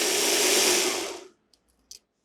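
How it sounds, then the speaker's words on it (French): A kitchen food processor or blender whirs loudly while grinding biscuits into crumbs, a dense steady roar that runs for over a second then cuts off, followed by a couple of faint clicks. "Broyez les biscuits."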